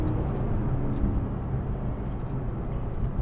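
A 2010 Porsche Panamera Turbo pulls hard in second gear, giving a loud, steady, close engine roar that holds level throughout with no break.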